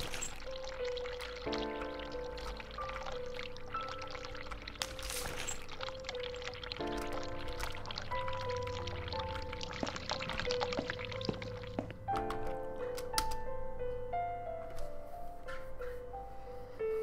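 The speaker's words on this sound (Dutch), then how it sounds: "Ik ga dat water eerst afzetten." Water runs steadily from a tap, a continuous soft pouring stream that lasts throughout, with a musical backing of sustained tones playing alongside.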